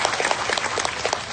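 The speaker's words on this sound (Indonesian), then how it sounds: "Tepuk tangan sekali lagi buat panitianya" A brief burst of dense audience applause at a large village religious gathering in Indonesia, loud and continuous with no voices over it.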